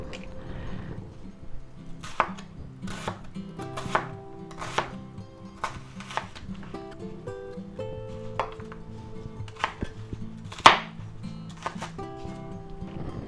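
A knife chops a small onion on a cutting board, steady knocks repeating roughly every second, close and clear over soft background music, with one sharper louder strike near the end.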